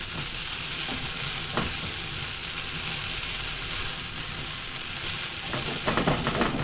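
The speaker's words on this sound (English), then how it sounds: "Make sure you mix it up really good. Make sure you burn all that alcohol off." Brandy sauce with mushrooms and shallots sizzles steadily in a pan as the alcohol burns off, a constant broad hiss with occasional scraping stirs.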